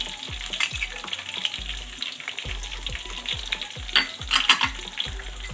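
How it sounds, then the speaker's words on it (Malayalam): Garlic frying in a pan for Kerala sambar, with a steady close sizzle broken by repeated scraping stir strokes of a spoon or spatula, no voices. "ഇനി വെളുത്തുള്ളി ഇട്ട് കൊടുക്കാം."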